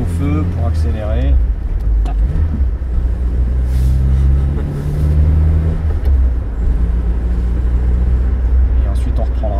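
A 1978 Renault 16 TX car accelerates on a road, its engine giving a steady, close, low drone that builds over several seconds, with voices talking briefly over it.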